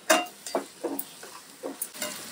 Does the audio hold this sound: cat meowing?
no